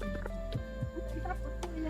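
Chickens at a national zoo cluck in a few short, close bursts over a steady background hum, with no talking.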